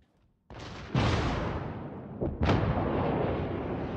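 Warship artillery firing in World of Warships, with a loud booming salvo followed by a second blast and a third about two seconds later, each trailing into a rumbling echo that fills the rest of the clip.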